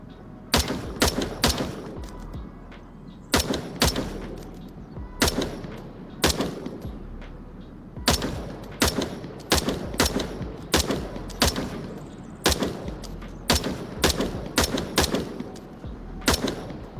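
Gunfire in a VR shooter game played on a Quest 2 with a ProTubeVR MagTube: loud, sharp shots fired in rapid bursts and short strings, alone and close.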